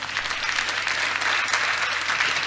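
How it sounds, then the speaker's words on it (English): A conference audience at a climate change summit breaks into a big round of applause, a loud, continuous wash of many hands clapping with no voices on top. "Let's give a big round of applause."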